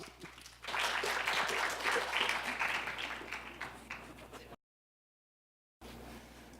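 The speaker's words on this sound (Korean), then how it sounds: "뜨거운 박수로 환영해 주십시오." Audience applause welcoming a student presenting team at a horse-industry idea contest, a dense steady burst of clapping that swells quickly, holds, then fades before a short silence and room tone.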